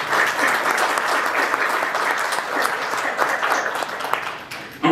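Audience at a police promotion ceremony gives a round of applause for family and friends, dense sustained clapping from a crowd that stays even before cutting off abruptly at the end.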